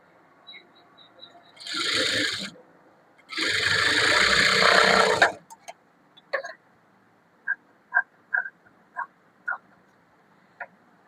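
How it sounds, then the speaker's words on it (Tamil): A sewing machine stitches chudithar lining in two loud whirring runs, one short and one longer. Sparse, sharp clicks and taps of the machine follow in a quiet room. "அதனால லைனிங் எதையும் ஒட்டி அப்படி ஒரு தையல் போட்டுக்கலாம்"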